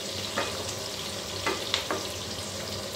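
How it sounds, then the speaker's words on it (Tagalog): Onions frying in hot oil in a pan, a steady dense sizzle throughout, with occasional soft stirring clicks and pops, close and moderately loud. "Pagluto na ang sibuyas."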